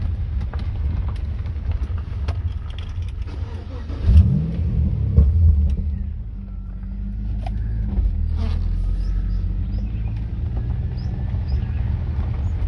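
A stock 5.7-litre Chevrolet Lumina accelerates on a road, its engine rumbling low and swelling into a revving surge midway before settling back into a steady cruising drone inside the car.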